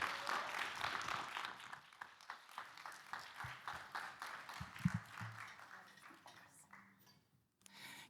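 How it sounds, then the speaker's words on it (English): Audience applause starts loud and gradually thins out into scattered claps, with a few murmured voices near the end. "Big applause, Argin Kubin."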